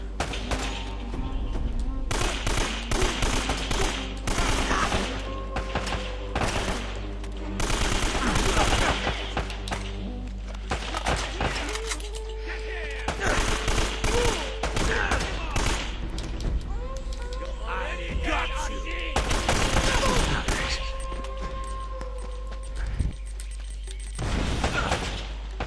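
Rapid AK rifle fire in Uncharted: Drake's Fortune, with repeated loud automatic bursts and scattered thuds that keep going throughout at close range.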